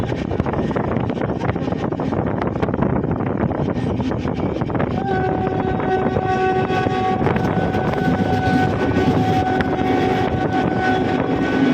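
Passenger train running between Jeypore and Berhampur in Odisha, a loud steady rumble of wheels on rails throughout, with a sustained horn tone joining midway.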